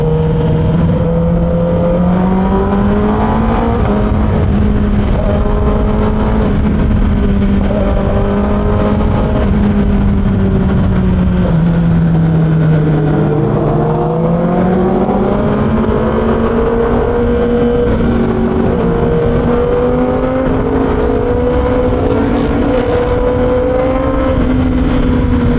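Yamaha MT-10 SP motorcycle at night, its engine droning steadily with rising and falling revs while riding, loud and close throughout with no talking.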